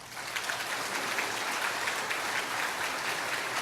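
A church congregation at a revival meeting claps steadily to welcome the preacher, a dense, even round of applause from a sizable crowd filling the room.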